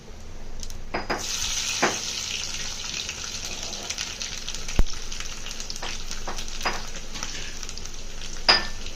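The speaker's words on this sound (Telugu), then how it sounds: "ముందుగా దంచి పెట్టుకున్న ఎల్లిపాయల్ని యాడ్ చేసుకుంటున్నాను." Crushed garlic hits hot oil with tempering seeds for sambar, giving a close, steady hissing sizzle dotted with sharp pops and spoon clinks.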